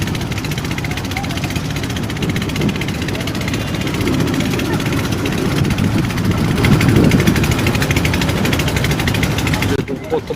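A motor boat engine drones steadily through a half-hour passenger boat ride on a river near Dhaka, a continuous low rumble that stays loud and close for the whole stretch, ending in a brief drop at the end.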